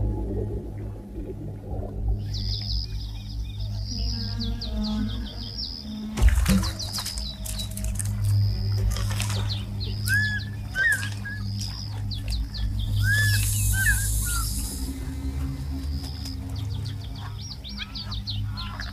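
Wild water birds such as egrets, herons and storks gather near crocodiles at a Rift Valley savannah waterside, giving short scattered chirps and calls over a steady low outdoor rumble.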